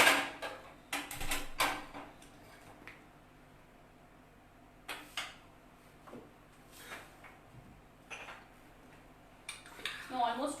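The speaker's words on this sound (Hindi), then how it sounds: "मैं पैन रख रही हूँ।" A pan is set down in a home kitchen with a few sharp metallic clanks and knocks, spaced apart over a quiet background hum, with a voice talking now and then.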